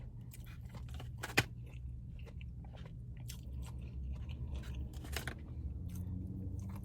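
Close, quiet chewing of a Dairy Queen Blizzard, with soft wet bites and a few crisp crunches, one sharper crunch early on, in a hushed room.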